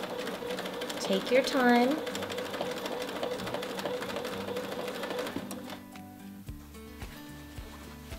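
A sewing machine quilting a wavy line along a ruler runs with a fast, steady needle chatter, close and continuous, while someone talks over it; the stitching slows and stops near the end.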